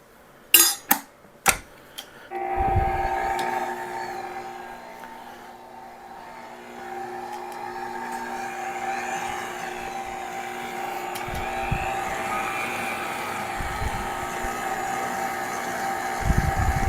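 Last cup of flour being mixed into cinnamon bun dough: a few sharp clattering knocks, then a steady mechanical whir that runs close and continuous to the end, with occasional dull bumps.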